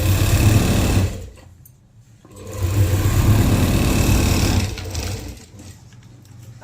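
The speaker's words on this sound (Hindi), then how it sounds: "सीधे पर उल्टा रखना है हमको, सीधे पर उल्टा, और ये ऐसे सिलना है।" An electric sewing machine stitches patiala salwar panels in close, loud runs of rapid needle clatter, pausing briefly near two seconds and fading toward the end.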